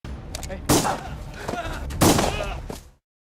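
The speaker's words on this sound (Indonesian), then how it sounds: "Bella langsung menembak dua paman Sayen." Two sharp, loud gunshot blasts in an action film, about a second apart, each followed by a ringing tail, over a busy dramatic background.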